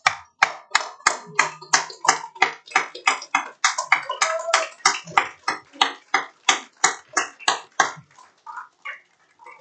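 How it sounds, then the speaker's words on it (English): At a college graduation ceremony, the audience claps in a steady stream of crisp, evenly spaced hand claps that carry on for several seconds before tapering off, with no talk over them. "Can we just stand and applaud Raj for a moment?"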